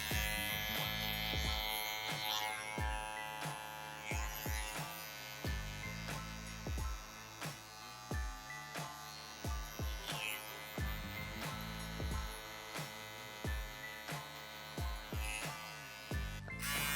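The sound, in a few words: electric hair trimmer buzzing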